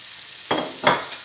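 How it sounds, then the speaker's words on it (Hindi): Sliced onions sizzling with okra in hot oil, a constant low frying hiss punctuated by two short scraping stirs, close and clear without talk. "अब मैं इसमें डाल दूंगी, मैंने 2 जो है मीडियम साइज के प्याज, इसको इस तरीके से स्लाइसेस में मैंने काट रखा है"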